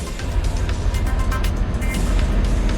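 A car in a driving video game overtakes the player, a loud steady engine roar close by with a rushing whoosh, no speech over it.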